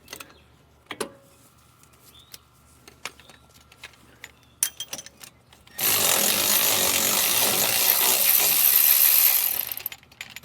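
A wrench works loose a bolt on a Ford Ranger, with scattered metallic clicks and clanks first, then a loud sustained whirring burst of a power tool for several seconds before it cuts off.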